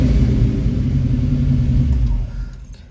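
Deep, aggressive idle of a 1969 Camaro's warming engine inside a showroom, a loud continuous rumble that eases and drops toward the end, with no talk over it.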